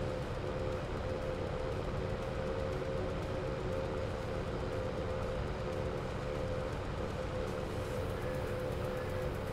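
A train runs in Farming Simulator 22 with a steady, continuous rumble and broadband noise. No one speaks over it.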